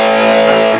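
Timmy V2 overdrive pedal set to maximum distortion, giving a loud, sustained, saturated guitar tone with dense harmonics that rings steadily, then starts to fade near the end.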